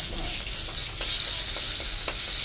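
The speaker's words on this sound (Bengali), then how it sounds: "লঙ্কা ফোড়নে দিলাম কালো জিরা দিয়ে দিলাম" Dried chillies and nigella seeds sizzle loudly in hot oil for a tempering, a close, continuous hiss with a few light crackles and scrapes, and no talking.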